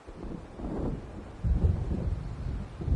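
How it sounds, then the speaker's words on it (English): Low rumbling thunder of an approaching storm in the Alan Wake video game, rolling in soft swells that grow louder after a short lull, with no talking. "It seems there's a storm coming."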